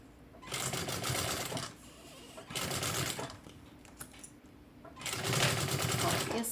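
A sewing machine stitches around the zipper of a double-compartment fabric cosmetic bag in three separate close bursts: a long run, a short one, then another long run, with quiet pauses and faint talk between them.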